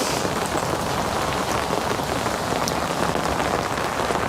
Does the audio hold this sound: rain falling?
yes